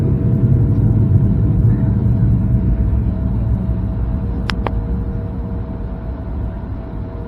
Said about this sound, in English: we'll get a good vantage point of American taking off.